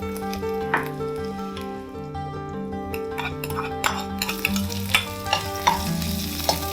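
Onions sizzle and fry steadily in a pan for black chana pumpkin kootu, with occasional clinks and scrapes of stirring over a continuous bed of crackle and some tonal background sound.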